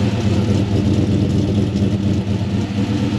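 A turbocharged LS1 V8 fitted in a GU ute runs steadily at idle, a loud, close, continuous low rumble with slight unevenness and no talk over it.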